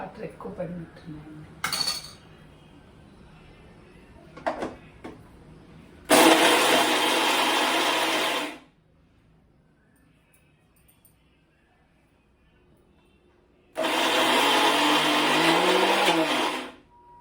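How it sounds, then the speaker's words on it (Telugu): Kitchen mixer grinder blending chutney with water, two loud whirring bursts of about two and a half seconds each, separated by quiet, with a few clinks and handling knocks before the first run. "కొంచెం వాటర్ వేసేసి మిక్సీకి వేసేసుకున్నాం"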